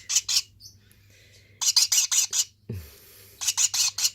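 A pet scarlet-chested parakeet squawks in sharp, close clusters of rapid shrill calls, with short quiet gaps between the bursts.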